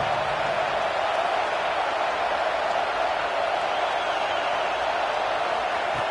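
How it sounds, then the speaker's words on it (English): A packed stadium crowd in the College Football 26 video game during a #1 Auburn at #2 Alabama matchup, a steady dense roar that holds at an even level throughout with no talk over it. "listen to this crowd noise. This stadium is vibrating"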